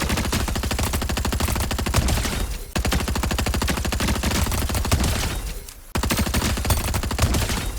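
Full-auto gunfire from a twin mag weapon in a video game: three sustained, rapid-fire bursts, loud and close, each held for a couple of seconds with brief gaps between them.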